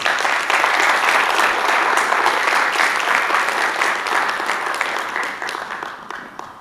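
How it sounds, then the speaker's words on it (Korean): A crowd at a Buddhist special lecture for military chaplains claps warmly, dense sustained applause that holds steady for several seconds and then slowly tapers off. "교구장 선생님께 큰 박수 좀 부탁드립니다"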